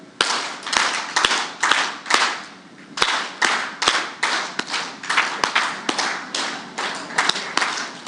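A group plays a counting game at an International Women's Day bell-ringing event, producing a steady series of sharp, loud unison claps spaced evenly in a rhythmic run, with no talk over them.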